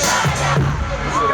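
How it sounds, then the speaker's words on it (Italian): A live crowd at an Italian street rap show gives a brief, loud burst of cheering and shouting, close and dense, with voices raised over the noise. "Questo applauso per voi!"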